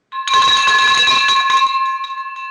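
A bright bell rings out close by, its sustained metallic tone holding steady and slowly fading over a couple of seconds.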